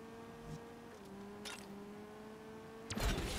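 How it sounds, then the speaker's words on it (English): Faint, steady buzzing hum of a Ferrari engine in the racing game Asphalt 9, holding one even pitch before a short noisy burst at the end. "That's the first time I've heard an engine sound that I liked on this game."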